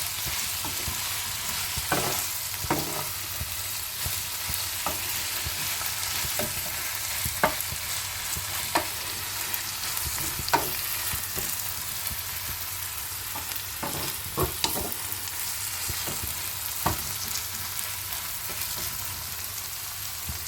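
Red amaranth stalk curry with added sugar is stirred in a frying pan, a steady close sizzle broken by irregular scraping clicks of the spatula against the pan, with no talking.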